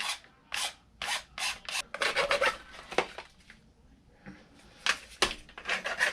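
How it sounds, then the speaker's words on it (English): A fine hand file rasps the rough edges of plastic on a Traxxas X-Maxx RC truck, a close series of short, rhythmic scraping strokes with brief pauses between bursts. "I'm going to file off the rough edges with just a fine file here."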